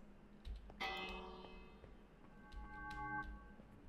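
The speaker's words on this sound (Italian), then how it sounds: "E io piazzo una campana." A bell placed in the video game Minecraft rings out in a few metallic chimes with ringing decay, faint and alongside light game clicks.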